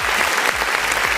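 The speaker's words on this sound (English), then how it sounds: "And some applause." Applause sound effect played on a birthday livestream, a steady dense wash of clapping lasting about a second, loud and close, with a low thumping beat underneath.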